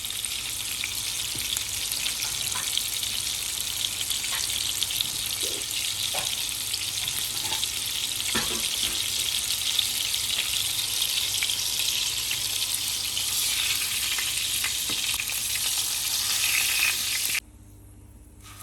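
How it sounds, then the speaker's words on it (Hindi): Egg masala kababs fry in hot oil with a steady, close sizzle and crackle that runs unbroken until it cuts off abruptly near the end. "बस हमने इसको हल्का सा फ्राई करना है, फुल पकाना नहीं है।"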